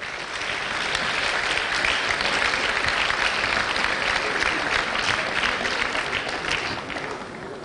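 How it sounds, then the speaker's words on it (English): Sustained audience applause fills a public lecture hall at a reproductive health centre: many hands clapping in a dense, steady wash that holds at an even level throughout and eases slightly at the end. "With a round of applause, let us thank him."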